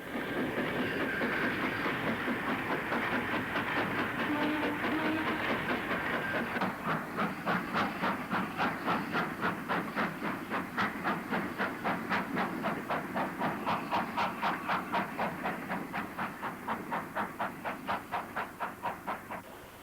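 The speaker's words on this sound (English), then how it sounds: "An 8F trundles past towards Deal Street Box with some low-sided wagons." An 8F steam locomotive trundles past hauling low-sided wagons in 1967, its steady hiss joined by a long run of regular clickety-clack wheel beats over rail joints, close and loud throughout.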